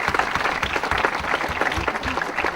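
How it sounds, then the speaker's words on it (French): An audience breaks into applause, a dense and even wash of many hands clapping that is loud and continuous from start to finish. "On peut l'applaudir, on peut l'applaudir."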